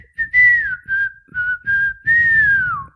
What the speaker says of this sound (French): siffler sur la colline et puis l'air de Robin des Bois là